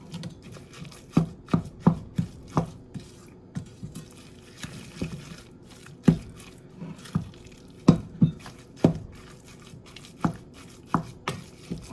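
Bare hands working ground wagyu beef with egg into a burger mixture, giving a series of wet slaps and squelches in uneven bursts, fairly close and clear with no talk.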